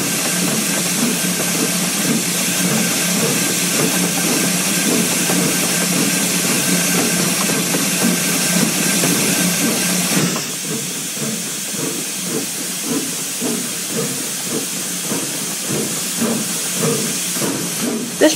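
Steam locomotive in Train Simulator on Donner Pass, hissing steam continuously at a loud, steady level; the hiss drops slightly partway through as the cylinder cocks are closed, leaving engine chuffing and rail noise.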